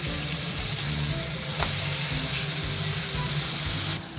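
Beef sizzles loudly searing in a hot pan, a steady crackling fry throughout with a faint clink near the middle, no voices.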